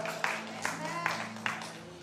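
A church congregation claps together in steady rhythm, four evenly spaced sharp claps over a soft background hum, moderately loud with no clear speech.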